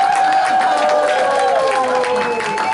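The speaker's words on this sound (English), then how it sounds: "Now that wasn't enough, give him another hand." A meeting audience claps and cheers for a performer, a full, close burst of applause with scattered whoops, steady throughout and partly overlapped by a voice.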